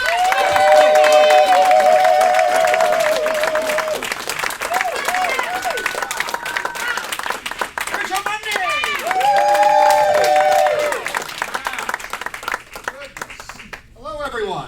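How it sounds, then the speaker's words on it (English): A cabaret audience applauds steadily for over ten seconds, dense clapping with some cheering, while a voice speaks over it in the middle. "give Bill Larkin a huge round of applause"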